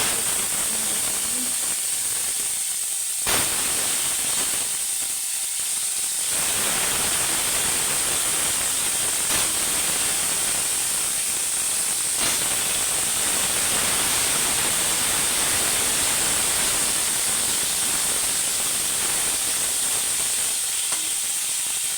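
Potatoes going into a hot pan, a loud continuous sizzle and hiss of frying with brief stirring clatters, close and steady throughout.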